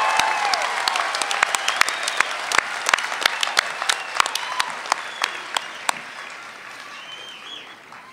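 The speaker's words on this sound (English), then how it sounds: "Let's have one more round of applause for our bachelor's degree graduates." A large commencement audience applauds bachelor's degree graduates, producing a dense, sustained wash of clapping with sharp individual claps standing out, then gradually thinning and fading toward the end.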